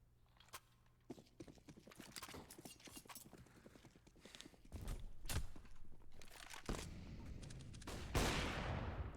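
Gunfire in a Counter-Strike match on the Mirage map, including a sniper rifle shot, comes as several sharp loud cracks and bursts among footsteps and game noise, building toward a heavy blast near the end.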